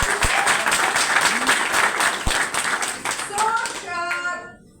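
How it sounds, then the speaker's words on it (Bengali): Applause and clapping from a crowd at a product presentation for an insulated casserole set, steady and fairly loud throughout, with a voice and some chatter mixed in before it fades out at the end. "হাততালি রাখুন"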